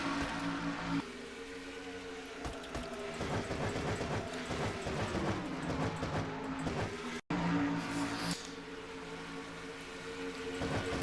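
Two race cars battle on the Dover oval in a NASCAR-style racing game, engines droning loudly and steadily with rising and falling pitch as they run close together, with no voices.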